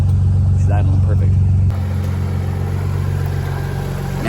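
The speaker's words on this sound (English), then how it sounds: "I mean, she's idling perfect." A car engine idles steadily with a low, even hum after a plug-and-play standalone ECU install, close up and continuous, with a voice briefly over it at the start.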